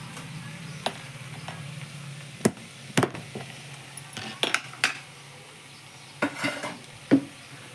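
Curry fries quietly in a home kitchen pan while a spoon scrapes and clinks against the metal in irregular sharp knocks over a soft, low sizzle.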